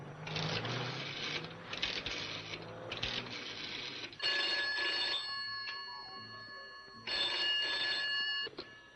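A telephone rings in repeated bursts, its bright metallic bell trilling in several spaced rings with short pauses between them, fairly clear and alone with no voices.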